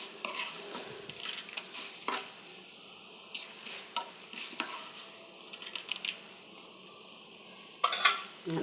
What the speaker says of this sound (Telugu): పోపు ఇలా వేగుతుందండి